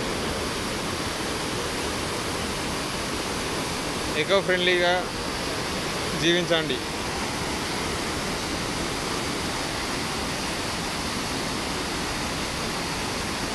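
Chelimela waterfall runs in strong, aggressive flow after a night of heavy rain, a constant dense roar of rushing water throughout, with a voice speaking briefly twice over it.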